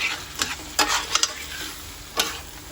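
A pasta sauce with beef sausage is stirred in a pan, several scraping spoon strokes sounding as short bursts over a soft steady sizzle, with no talking.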